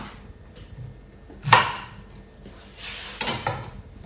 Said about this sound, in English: Cut the base of them off, sprinkle that on top.